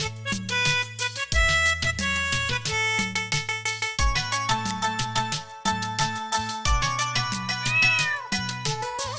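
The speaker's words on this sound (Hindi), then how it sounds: "म्याऊं म्याऊं म्याऊं म्याऊं, बिल्ली करती म्याऊं।" A cat meows repeatedly in a steady rhythm over tonal music in a Hindi children's rhyme, the cries loud and clear throughout.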